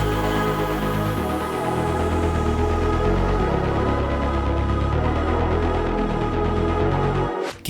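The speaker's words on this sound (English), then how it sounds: "so let me throw in some of that, and then while we're at it, we can add all the typical progressive house effects." Progressive house track with an atmospheric pad layer and typical genre effects, including a rising sweep across the top, playing loud and continuous, then cutting off abruptly with a brief burst at the end.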